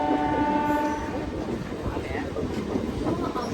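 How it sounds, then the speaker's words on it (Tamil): A Coimbatore–Shornur MEMU passenger train departs Walayar station, rumbling steadily nearby with a sustained horn tone near the start, continuous mechanical noise throughout and no clear speech. "வாழையார் ஸ்டேஷன்லேருந்து நம்ம ட்ரெயின் வந்து ரிப்பார்ட் ஆகிடுச்சுங்க"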